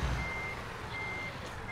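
Reversing beeper on a day cab truck backing a trailer in American Truck Simulator, a steady tone that stays clear and continuous over a low diesel engine rumble.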